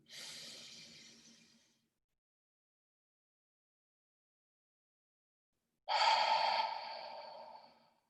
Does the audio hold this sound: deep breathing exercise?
yes